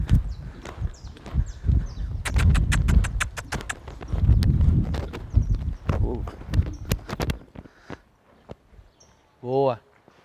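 A horse in barrel racing training moves through the arena, its hooves thudding and clopping loudly and irregularly for several seconds before fading. A short, higher call rises near the end.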